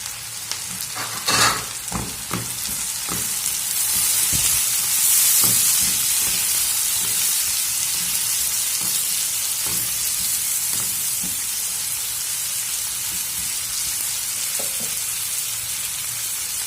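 Smoked fava beans fry in a pan with a steady loud sizzle and hiss, broken by repeated quick scraping strokes of a stirring utensil, with no voices.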